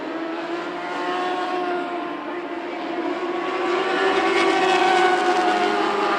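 California Lightning Sprints sprint cars racing at Perris Auto Speedway, a continuous loud roar of engines that slowly builds as the field passes, with a commentator's voice faintly blended in.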